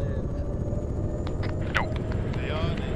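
A video game helicopter's engine drones steadily in the background, a constant low rumble with faint whine above it, under people talking over radio chatter.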